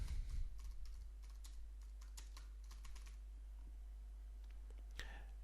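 Steady, fairly quick typing on a computer keyboard as a title is entered, crisp individual key clicks close by against a low constant hum, with a louder click near the end.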